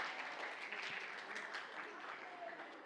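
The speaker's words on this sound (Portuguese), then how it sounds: "Uma salva de palmas para eles" Audience applause for a family whose story was chosen, a steady wash of clapping that stays fairly faint and even throughout, with a little speech-like murmur mixed in.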